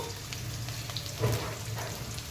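Two onions fry over high flame for chicken fry with a steady, moderate sizzle and faint crackle, plus a small knock midway, without speech.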